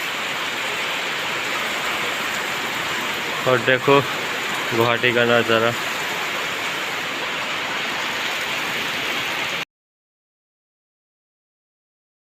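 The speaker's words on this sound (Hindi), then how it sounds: "देखो भाई बारिश आ गया है गाइस गुवाहाटी में" Steady evening rain hiss in Guwahati fills the whole recording, with someone speaking briefly in the middle before it cuts to silence near the end.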